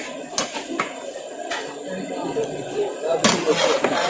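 A ladle stirs and scrapes through dum biryani (Parappanangadi style) in a large pot. Irregular metallic clanks and scraping sit over a steady low kitchen background, with faint voices behind.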